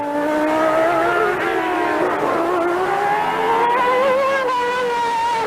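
McLaren Formula 1 cars racing at the Mexican Grand Prix on the Autódromo Hermanos Rodríguez circuit, loud high-pitched engine wail rising and shifting continuously as cars pass, with no voices.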